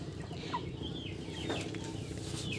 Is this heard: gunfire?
no